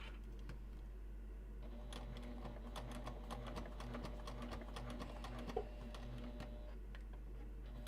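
Hand-cranked sewing machine stitching car trash cans inside a bus, giving a quiet run of rapid mechanical ticks and clicks over a steady low hum, with one louder clack near the end.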